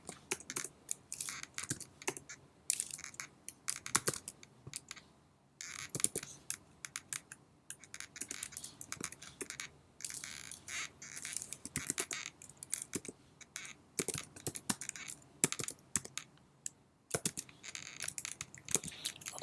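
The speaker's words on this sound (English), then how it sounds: "So here I'm going to type some HTML code." Close, crisp computer-keyboard typing as HTML code is entered for a GitHub project, coming in uneven bursts of rapid clicky keystrokes separated by short pauses, alone with no talk.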